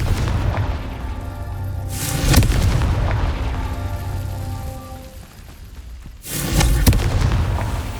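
Confringo explosion spells in Hogwarts Legacy go off twice as loud, booming blasts, each with a bright crackling burst that rumbles and decays over a couple of seconds, set against a low droning game ambience.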